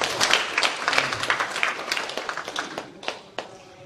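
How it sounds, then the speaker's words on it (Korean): A group of people at a nursing home gathering give a round of applause, with brisk, close clapping that starts strong and gradually thins into a few scattered final claps. "우리 박수 한번 해드리겠습니다"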